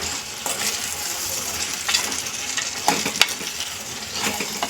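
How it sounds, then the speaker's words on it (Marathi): Mixed vegetables such as peas, carrot and cauliflower sautéed in a pan, with a continuous sizzle and repeated clinking spatula stirs, close and fairly loud, no voices. "त्या दोन मिनटं परतून घ्यायच्यात व्यवस्थित"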